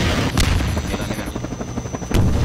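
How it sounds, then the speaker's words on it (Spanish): Helicopter rotor chopping in the Half-Life 2 video game during an online multiplayer match against zombies and monsters, heard through loud booms and bursts of gunfire with a steady mechanical drone underneath. "¿El helicóptero? ¿Dónde está ese helicóptero?"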